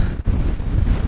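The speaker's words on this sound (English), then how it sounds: "oh my god, it is so windy" Strong gusting wind buffets the microphone outdoors at Ros Castle, a loud, dense rumbling roar that dips briefly and then surges again.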